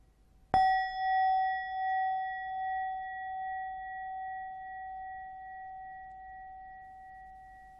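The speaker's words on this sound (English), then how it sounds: "Just whatever location where you can sense the breathing well after the sound of the bell" A mindfulness bell is struck once and rings out in a clear, pure tone that slowly fades and lingers for several seconds in near silence.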